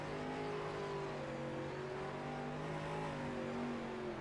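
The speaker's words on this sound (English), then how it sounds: "hear the car sputtering out of fuel and barely wins it" A dirt-track sprint car engine at the Knoxville Nationals drones at a steady, uneven pitch, faint and somewhat distant, sputtering as it runs low on fuel.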